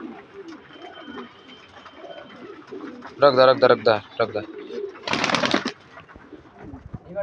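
Domestic pigeons kept by fanciers in northern India coo in short, throaty bursts close by, mixed with people talking nearby.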